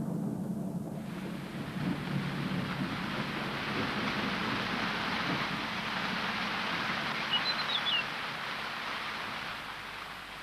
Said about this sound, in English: In October, the short rains begin.